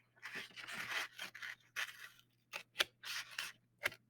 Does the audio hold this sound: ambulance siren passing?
no